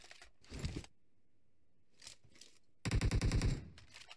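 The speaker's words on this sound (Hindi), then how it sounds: "मारते रहो गोलियां, मारते रहो।" Bursts of automatic gunfire in the video game PUBG Mobile, a short rattle, a pause, a fainter burst, then a loud rapid string of shots.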